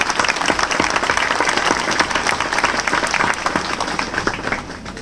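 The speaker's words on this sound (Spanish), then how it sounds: "Démosle un aplauso por este logro" A church congregation at a Mass claps together, a dense and energetic round of applause that holds steady and then begins to thin out at the end.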